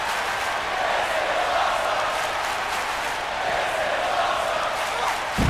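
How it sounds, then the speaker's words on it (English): A wrestling crowd roars and cheers in a continuous, loud wash of noise that swells slightly toward the end. "Crowd loving it."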